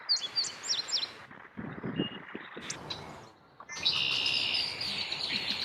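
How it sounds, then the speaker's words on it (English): Several bird calls and chirps from a red-winged blackbird, some bright and some harsher, repeated across the span and heard among other outdoor birdsong, moderately near. "red-winged blackbird."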